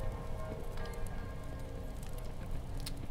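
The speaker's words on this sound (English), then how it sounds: "the rain is going away now" Steady rain falls in the video game Kingdom New Lands, a dense, even hiss of drops with light patter and no break, moderately loud, with no talk over it.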